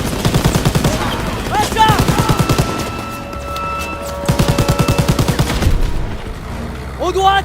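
Rapid automatic gunfire bursts hammer close and loud in Call of Duty WWII during a train assault, with shouted voices over the shooting and brief pauses between volleys.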